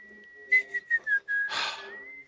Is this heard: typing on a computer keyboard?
no